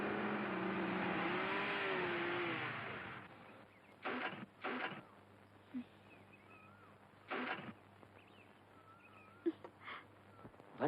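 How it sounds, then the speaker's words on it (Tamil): A car engine drones steadily for a few seconds and then cuts off as the vehicle stops, leaving faint outdoor noises and scattered short sounds. "வண்டி நின்றுச்சு."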